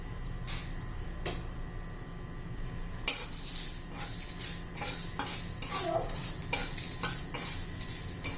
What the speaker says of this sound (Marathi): ह्या दोन लाल मिरच्या बेडगी मिरची आहे आणि मिऱ्या छान असं मंद गॅसवर आपण त्याला भाजून घेणार आहोत